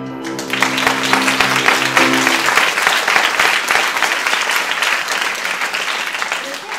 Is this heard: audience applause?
yes